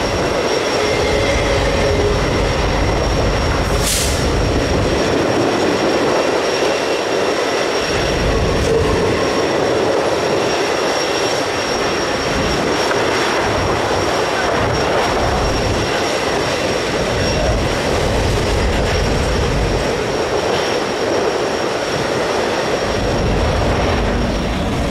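A long intermodal freight train rolls steadily past, producing a loud, continuous rumble with clattering wheel noise that builds and eases in waves over the whole stretch.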